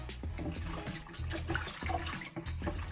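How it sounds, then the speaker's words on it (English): Running tap water splashes steadily over callaloo leaves being rinsed in a kitchen sink, a continuous close wash of water with small bumps and handling noises throughout. "just rinse it off"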